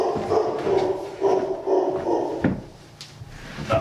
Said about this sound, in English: He barked a lot that day.